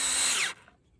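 A power drill runs loud and steady at high speed while fixing hinges for a farm gate, then cuts off abruptly, leaving near silence.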